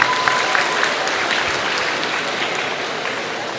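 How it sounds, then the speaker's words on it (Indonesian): Applause from students at an Islamic boarding school gathering, a brief burst of many hands clapping that stays steady and fairly close for a few seconds. "beri tepuk tangan dulu"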